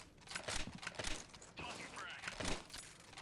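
Gunfire from a Counter-Strike match, with rapid bursts of shots and cracks in quick succession, layered under a commentator talking over the action.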